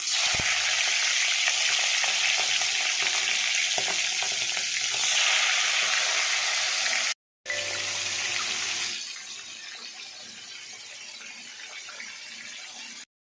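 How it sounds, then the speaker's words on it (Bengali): Spiced prawns fry in hot oil in a wok with a loud, constant hiss and crackle, then cut out for a moment and return at a softer, steadier sizzle. "তা চলো মাছগুলো এবার এক একে ভেজে নিই। কড়াইতে তেল দিয়ে নিয়েছি, তেলটাও গরম হয়ে গেছে।"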